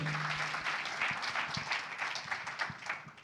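A church congregation applauds in a brisk, steady patter of clapping hands, moderately close and unbroken, with a brief low hum at the start.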